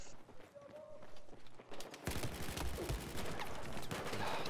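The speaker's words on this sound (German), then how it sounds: "Von Bravo schießen sie." Gunfire in a tactical shooter video game during a competitive team match: dense, loud bursts of shots and impacts fill the second half after a quieter start, with footsteps and movement mixed in.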